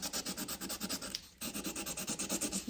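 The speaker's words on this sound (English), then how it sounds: "keep sanding it off, make it round" Steady rhythmic sanding of the edges of a Moen bathtub faucet part, quick back-and-forth strokes rasping close up with a brief pause midway, then continuing at the same brisk pace.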